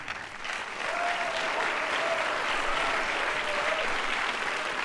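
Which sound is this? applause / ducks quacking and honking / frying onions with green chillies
applause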